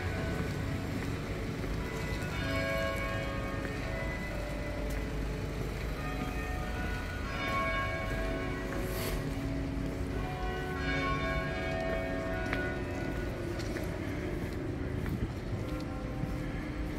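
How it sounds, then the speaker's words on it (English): Church bells of St Clement Danes in London ring three o'clock, steady peals carrying over continuous outdoor street noise and wind. "There we are, that was the 3 o'clock bells"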